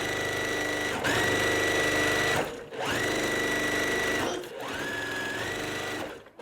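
Sewing machine stitching quilt fabric pieces together, running in three steady whirring bursts with short pauses between, close and loud, no talking.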